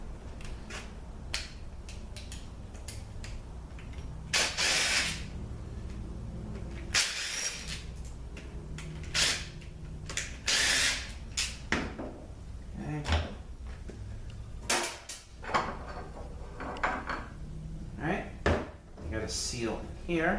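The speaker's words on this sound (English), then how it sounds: "now I'm going to go ahead and take these bolts out here. That is a T40." Metallic clinks, taps and ratcheting rattles of a Torx T40 tool and small extension removing bolts from a Porsche Boxster ZF5HP19 automatic transmission, sharp irregular knocks close up with someone talking intermittently.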